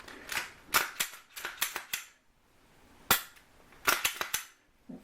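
A firearm being function-tested after cleaning, with sharp close metallic clicks of the action and trigger in quick bursts, a pause, then another cluster of snaps.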